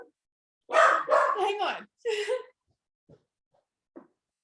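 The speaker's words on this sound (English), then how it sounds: "Oh, my dog is barking." A dog barks in a quick burst of several loud, close barks, then a couple of faint yips after a pause.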